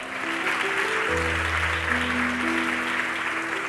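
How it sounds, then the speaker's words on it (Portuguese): A church congregation applauding, heard as steady, continuous clapping over sustained keyboard or organ chords playing underneath. "Você pode aplaudir ao Senhor."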